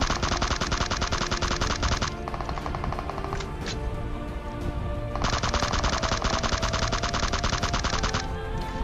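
Automatic gunfire in the PUBG Mobile video game comes in two long, loud, rapid-fire bursts separated by a few seconds of quieter in-game ambience.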